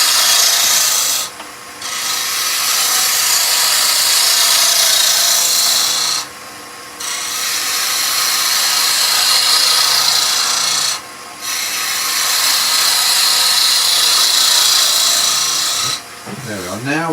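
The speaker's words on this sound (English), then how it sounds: "So what I'm doing here is a skew cut with the bowl gouge" A bowl gouge makes a skew cut on spinning wood on a lathe, giving a loud, continuous rasping shear broken by three short pauses, with a quieter pass near the end.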